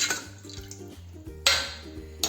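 A spoon stirs a teaspoon of salt into water in a metal pot, clinking and scraping against the sides in short bursts with light watery swirls between them.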